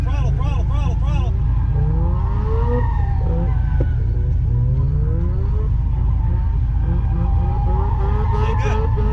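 A drift car revs hard with rapidly rising and falling engine pitch and tires skidding, loud and close, while someone talks over it.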